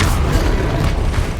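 Spell explosions from Confringo and Bombarda in Hogwarts Legacy form a dense, loud burst of booming, crackling blasts that fills the short stretch without a break.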